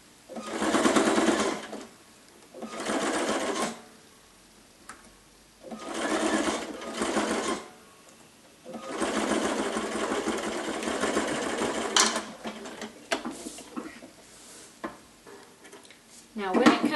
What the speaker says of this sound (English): now I'm just going to sew right along that fold edge of my binding